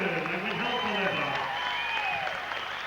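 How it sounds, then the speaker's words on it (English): A crowd at a combat sports fight night applauds the two fighters after the bout, sustained clapping and cheering mixed with an announcer's voice and crowd noise throughout. "Give it a big round of applause for Domenic and Scott."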